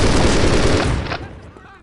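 A loud, dense burst of automatic gunfire in a video game rattles continuously for about a second, then trails off into a fading echo.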